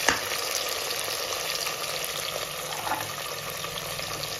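Onions, tomatoes and green chillies fry steadily in a pan, giving a dense, even sizzle that holds at a constant level throughout, with a faint stir or scrape near the start and another around the middle.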